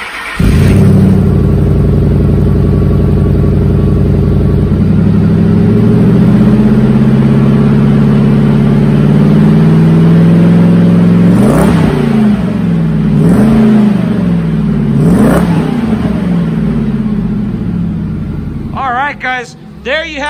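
A 2006 Ford F-150 with a 5.4 V8 and full aftermarket exhaust with MagnaFlow high-flow cats rumbles loudly at idle with a deep, throaty exhaust, then revs up sharply a few times before settling.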